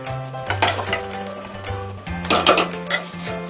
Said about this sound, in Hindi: अब इसमें डालते हैं मटन।